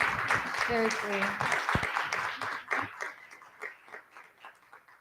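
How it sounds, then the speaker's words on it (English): An audience at a breast cancer awareness panel claps for the panelists, a moderately loud patter that thins and fades toward the end, with a voice speaking briefly over it near the start. "let's give an applause to our panelists and Dr."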